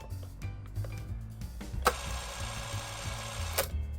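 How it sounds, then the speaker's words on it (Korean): A Super 8 film camera runs at 18 frames per second, giving a steady, quiet mechanical whirring chatter with a fast repetitive rhythm and a couple of sharper clicks, heard alone and fairly close. "이제 셔터만 눌러보면은 차라락 소리가 들리는데"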